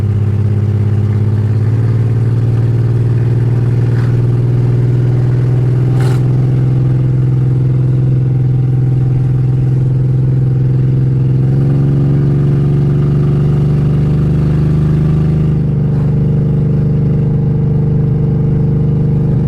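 A BMW 325xi E46 engine pulls hard through the gears, its loud steady drone rising in pitch and dropping briefly at each shift, heard continuously and close from inside the car, with no talking.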